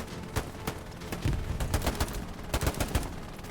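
In Hell Let Loose, a grenade blast and gunfire sound together as sharp, scattered shots and a heavier low thump, close and moderately loud, with no talk.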